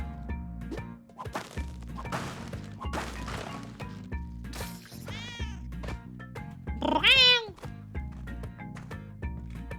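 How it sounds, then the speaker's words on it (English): Cartoonish cat meows from the video game Harvestella, short rising-and-falling mews popping up over game music and thuds, with a person talking throughout. "Will you please look at this cat?"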